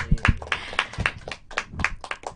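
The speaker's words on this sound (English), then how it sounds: "Give an applause for us." A small audience at an English community discussion gives a brief round of applause, with a few people clapping at an uneven rhythm, close and moderately loud.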